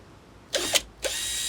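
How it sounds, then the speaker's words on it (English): A power drill pre-drills a marker hole, two short close whirring bursts separated by a brief pause, fairly quiet against a faint background. "just trying to pre-drill a marker hole"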